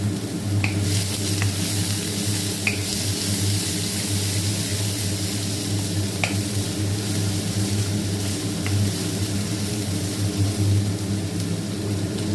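Small onions sautéing in hot oil for an okra sabji, a steady close sizzle with occasional scrape of a spoon stirring through the pan, continuous and alone without talk.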